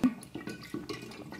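Room-temperature water is poured into a kombucha base of sweetened tea, making a quiet, brief series of splashing, dripping liquid sounds with no talking.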